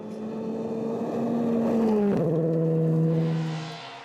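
A Renault Clio R2 rally car on a gravel stage of the International Rally of Whangarei roars past. The engine note climbs, drops sharply as the car passes, then fades away.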